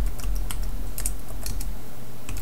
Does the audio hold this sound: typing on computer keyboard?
yes